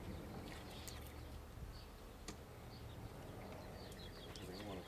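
Honeybees buzz steadily inside a nucleus hive during an inspection, a faint, close, continuous hum with occasional louder passes of individual bees.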